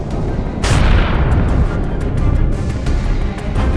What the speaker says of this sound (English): the explosion was very powerful